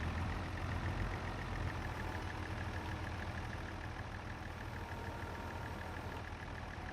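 A tractor engine in Farming Simulator 22 runs steadily for the whole stretch, a continuous mid-pitched idle drone with a faint tonal hum and no talk over it.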